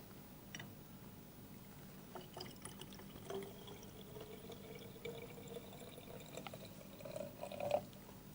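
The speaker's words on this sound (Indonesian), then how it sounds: "Kemudian kita campurkan dengan air bening." Clear water is poured into a tube holding oil in a classroom mixing demonstration, heard as a faint, close trickle and gurgle of liquid that swells briefly louder near the end, with no talking.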